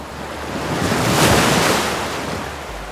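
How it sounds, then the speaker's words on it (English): Loud surf swelling into a broad roaring crash of waves against rocks on the Cantabrian coast of Spain, building and fading over a few seconds with wind noise throughout. "just listen to the sound the waves make as they crash against the rocks"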